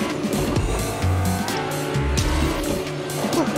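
A car in the Fortnite video game drives hard, its engine revving loudly with screeching tires and skids in quick bursts, all close and continuous.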